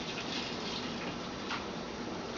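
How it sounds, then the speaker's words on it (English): Cold water is poured over grain while homebrewing, giving a soft, steady, low-level wash of running liquid that continues evenly throughout, heard close with nothing else over it. "pour more cold water on top"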